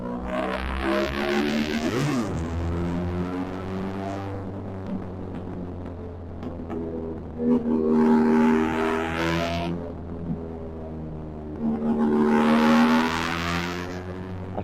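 A Benelli TRK 502 X motorcycle with an Arrow exhaust and no dB killer runs steadily, revving up three times to a raised, throbbing roar before settling back to a deep idle, loud and close with no talk.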